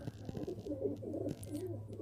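Pigeons coo in soft, low repeated phrases, close by, with a steady low hum in the background.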